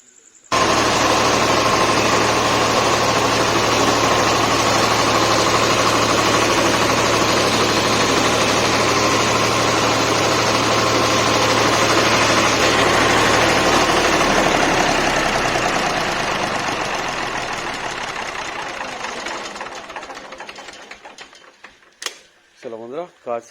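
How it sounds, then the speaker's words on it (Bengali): A recently repaired engine with a newly fitted silencer runs loud and steady at idle for about twenty seconds, a constant mechanical drone, then cuts off and winds down, leaving brief voices at the end. "চলো এবার ইঞ্জিন স্টার্ট করে দেখে নি"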